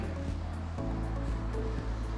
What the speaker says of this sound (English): you have a waterfall feature coming down from here